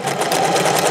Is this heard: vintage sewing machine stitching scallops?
yes